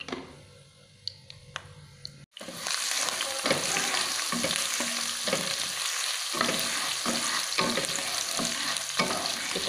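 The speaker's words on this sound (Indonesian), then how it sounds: "setelah panas, kita masukkan bawang merah sama bawang putih terlebih dahulu ya guys" Shallots and garlic drop into hot oil with a sudden burst of sizzling that holds steady and loud, broken by light scraping and stirring taps, after a quieter stretch of faint kitchen clicks.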